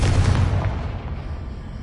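A Confringo fire spell explodes in Hogwarts Legacy. One heavy, booming blast opens the sound, then its rumble slowly fades over the next second or two.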